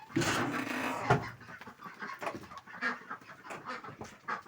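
Chickens clucking close by in a coop, one loud drawn-out call followed by a series of short, irregular clucks and bursts from the flock.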